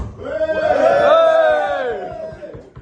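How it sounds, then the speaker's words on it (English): A live comedy audience lets out a swelling cheer and whoops from travellers from Australia, rising to a loud peak mid-way before tailing off, with no individual speech on top. "Can I get a cheer if you've travelled from Australia?"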